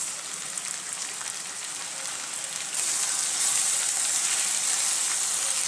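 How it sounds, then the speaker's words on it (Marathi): Vegetables with chili-ginger paste and French beans sautéing in a pan while making veg pulao: steady, loud, hissing sizzle close up that grows slightly brighter halfway through, with no talking. "आपण ह्या भाज्यांना दोन मिनटं परतून घेऊ"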